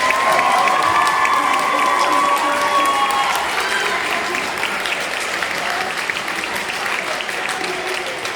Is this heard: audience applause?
yes